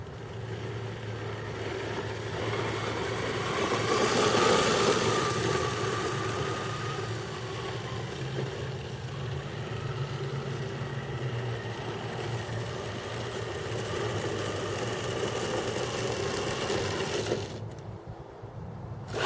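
A Hobbywing Quickrun Fusion motor drives an RC Grand Hauler truck in third gear, giving a steady, close mechanical whine and drivetrain rumble that swells briefly and then holds level before cutting off near the end.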